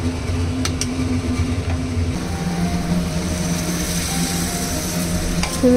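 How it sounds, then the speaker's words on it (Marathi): Steady sizzling and stirring of garam masala, coriander powder and other spices in a hot pan, with occasional scraping clicks of a utensil, close up and continuous with no talking. "गरम मसाला आणि धने पावडर घातली. त्याला सुद्धा छान परतवून घ्यायचे आहे."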